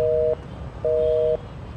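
A mobile phone call fails to connect, sounding two steady beeping tones separated by a short gap, clean and moderately loud.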